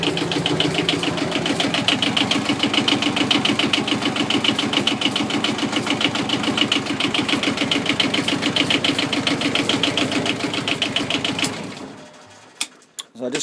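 A Nanni 14 horsepower marine diesel idles steadily aboard a boat, a close, even mechanical chatter that runs unbroken for about eleven seconds, then cuts off abruptly when the engine is shut down, leaving near silence.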